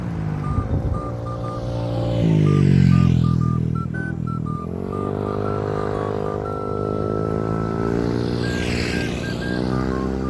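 Motorcycle engines rev and whine as bikes race past, pitches rising and falling with gear changes, loud and close, no speech.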